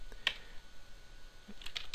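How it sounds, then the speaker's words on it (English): Keys tapped on a computer keyboard while entering a component name into circuit design software, a few quiet, scattered clicks heard close up in a near-silent room. "So I'm going to type in"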